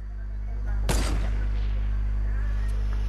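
A single sharp gunshot or burst from a weapon firing at hedges in the video game Fortnite cracks out about a second in, then fades into a steady low hum and background game ambience.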